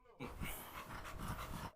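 A dog pants close by in a house: a quick, steady run of breathy huffs that lasts nearly two seconds.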